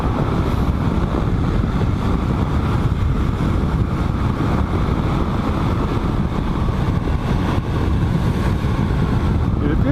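Riding a Kawasaki KLR motorcycle on a fine day, heard as a steady broadband rush of wind buffeting over engine drone, loud and continuous throughout with no clear voices.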